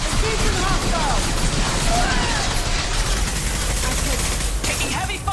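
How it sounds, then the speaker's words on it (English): Dense, continuous combat barrage in Mass Effect Legendary Edition, with overlapping gunshots and booms forming a constant loud wall of noise beneath character voice lines. "Taking heavy fire!"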